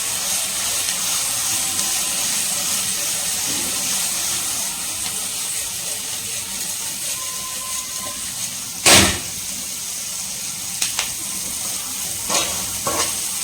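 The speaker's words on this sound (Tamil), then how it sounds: "வெங்காயம் வந்து பார்த்தீங்கன்னா ஹை ஃப்ளேமில் வச்சுட்டு வதங்கட்டும்" Onions sautéing on a high flame for a jeera samba pulao, a steady loud sizzle throughout with a sharp clatter of stirring near the middle and a few lighter scrapes toward the end.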